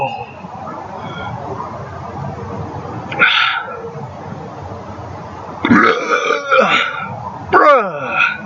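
A man lets out a series of loud, raspy burps: one short belch, then a longer drawn-out one, then a final rough burst, each close up with quiet pauses between.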